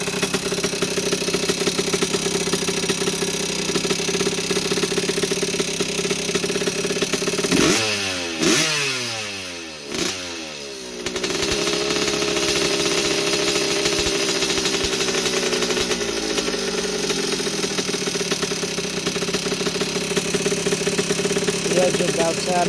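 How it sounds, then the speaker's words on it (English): A 1981 Yamaha YZ80H two-stroke motorcycle engine, a barn find, runs close and loud with a rattly buzzing idle, blipped revs dipping midway, then settles back to a steady rattle. "The engine does sound a bit rattly now that it's warming up"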